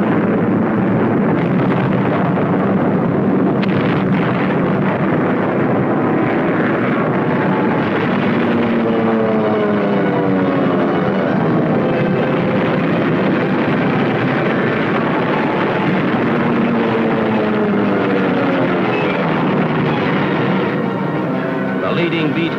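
Multiple B-29 bomber engines drone steadily in flight over Japan, a loud continuous roar with wavering tones that fills the entire stretch without letup.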